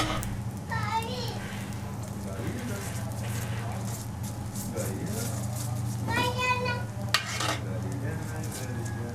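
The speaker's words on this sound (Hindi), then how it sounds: "अच्छे तरीके से घी लगाकर साइड बदल देंगे और पराठे को हम तवे के ऊपर घुमा लेंगे" Aloo paratha frying in ghee on a flat tawa, a steady sizzle under a constant hum with occasional scraping and stirring touches; children's voices chatter in the background throughout.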